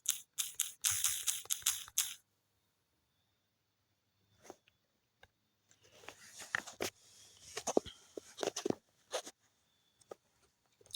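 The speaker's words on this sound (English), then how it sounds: "What was I about to type in?" Clicks and clacks of typing on a computer keyboard, a short dense burst at the start, then quiet, then scattered bursts of keystrokes close by, with no talk.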